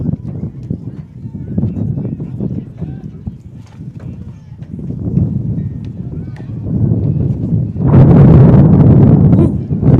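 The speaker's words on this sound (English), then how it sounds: "Gusty gust." Cold gusty wind at an outdoor baseball game, rumbling and buffeting the microphone, building to a louder blast near the end, with talking and crowd noise underneath.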